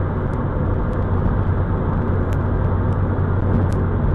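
A small car, a Scion FR-S, driving through city streets, with a steady broadband road and engine roar heard from inside the cabin, loud and continuous with faint ticking clicks.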